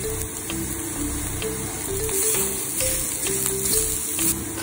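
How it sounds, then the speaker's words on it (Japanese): Crushed dried shiitake mushrooms and peanuts stir-fried in a pan, giving a steady crackling sizzle with light scraping of the spatula, close and continuous with no talking. "粉々にした干し椎茸を炒めます。"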